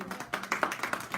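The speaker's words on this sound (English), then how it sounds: "Everybody give Maria a round of applause." Audience applause for Maria at a recognition gathering, a brief burst of quick, dense hand claps at moderate distance with no talk over it.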